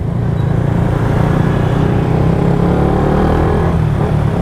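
Habal-habal motorcycle taxis pass by on a street, a continuous loud engine drone and road rumble with no pauses, busy traffic around and no voices.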